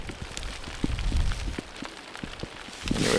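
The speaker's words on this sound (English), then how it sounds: "It's starting to rain real bad." Rain patters and taps on a nearby surface outdoors in Alaska in fall, scattered drops landing unevenly over a low, steady background.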